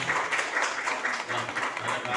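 An audience at a gathering addressed by Mayor Harka Sampang claps in a short, steady burst of applause that stays close and even for about two seconds.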